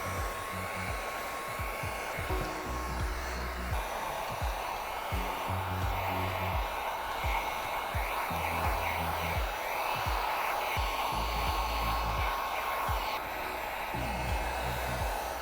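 A heat gun shrinking window tint film on a 2016 Honda Accord window blows a steady, loud whooshing hum that carries on without a break.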